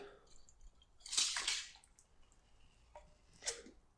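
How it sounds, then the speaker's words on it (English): Boiling water poured to scald a jar lid: two short bursts of splashing water, one stronger and longer, then a brief quieter splash, with soft clinks and quiet gaps in between. "scald the lid as well"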